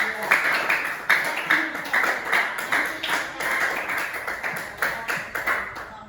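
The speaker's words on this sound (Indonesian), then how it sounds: "tepuk tangan dulu untuk kalian" A class of students claps hands together, a dense run of sharp overlapping claps filling the whole stretch at steady strength, with a voice murmuring underneath.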